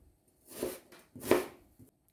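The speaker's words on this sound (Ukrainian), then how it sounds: "Одну середню цибулину нарізаю на пів кільця." Two soft crunchy cuts about half a second apart, a knife slicing an onion into half rings on a board, with faint knocks at the end.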